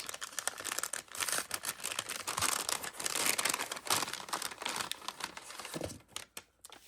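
A small, chunky paper envelope of Gina K Designs holiday crafting supplies is torn open, with close crinkling, rustling and ripping paper that continues steadily and then trails off into a few softer handling sounds, with no talking.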